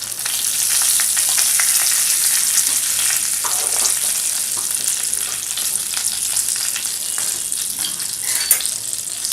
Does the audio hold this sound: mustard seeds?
yes